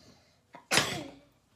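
A single sharp sneeze with a short breathy lead-in, close and loud, fading quickly into quiet.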